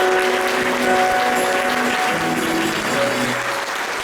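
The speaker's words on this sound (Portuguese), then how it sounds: "Vamos aplaudir o Senhor Jesus" A church congregation applauds during a worship service, steady dense clapping throughout with faint musical tones sustained underneath.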